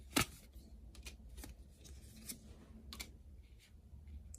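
Tarot cards are shuffled and drawn by hand, with a sharp riffle at the start followed by soft, irregular card slides and taps close by, quiet and with no talking.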